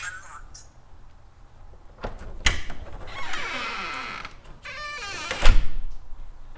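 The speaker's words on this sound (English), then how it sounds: "all you need to do then is to touch this to the lock and it will unlock the door" A Hornbil fingerprint smart lock unlocks when its RF key is touched to it, giving sharp mechanical clicks and a short motorized whirring of the bolt, close up, with a person talking around it.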